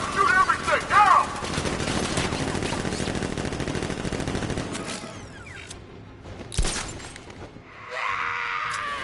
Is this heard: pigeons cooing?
no